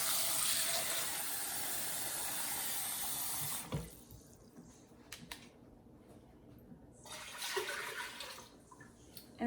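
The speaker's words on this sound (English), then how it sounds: "And then I'm going to add 2 more cups of water." Water from a tap pours steadily into a pot already holding chicken broth, a loud rushing fill that cuts off partway, leaving quieter trickles and splashes before another brief surge.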